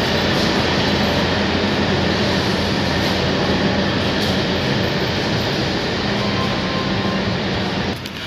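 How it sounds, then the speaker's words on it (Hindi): ZDM3 diesel locomotive at Firozpur Cantt railway station, a steady, loud engine rumble and drone that holds throughout before dropping slightly at the very end. "आप देख सकते हैं ये अपना लोकोमोटिव है ZDM3 लोकोमोटिव है"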